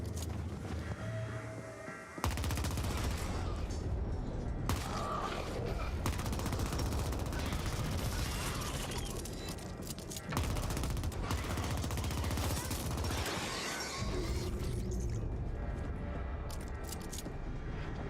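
Dense, continuous gunfire and booming explosions from the action game The Ascent, rapid bursts layered over deep rumbling blasts that barely let up, with a brief quieter lull near the start.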